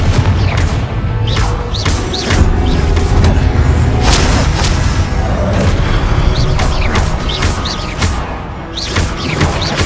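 Confringo spell explosions in the video game Hogwarts Legacy, a dense run of booming blasts and crashing impacts layered over a continuous loud battle rumble.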